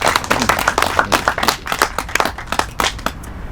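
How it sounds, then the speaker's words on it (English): An audience applauds at the groundbreaking ceremony for an urban farm, with a steady patter of many hands clapping at close range that tapers off toward the end. "Give him a big round of applause"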